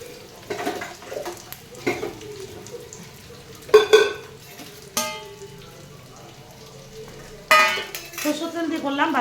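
Marinated chicken pakora frying in mustard oil, with sizzling under scattered scraping and clinking of a utensil against the pan, plus a few louder bursts of clatter.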